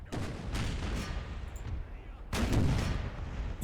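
Artillery in the Empire: Total War video game fires canister shot, two heavy booming blasts about two seconds apart over a dense rumbling battlefield din.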